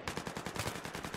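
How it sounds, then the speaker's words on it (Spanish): Rapid automatic gunfire from Battlefield 3, a steady burst of close, loud shots in quick rhythm filling the whole moment with no talk over it. "Tiros, tiros, tiros"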